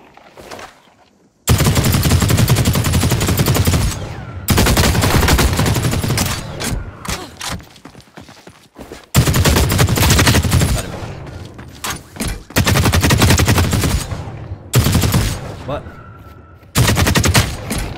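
Loud automatic gunfire from The Cycle: Frontier, a shooter video game, erupts in repeated long bursts separated by brief quieter gaps, close and dominant.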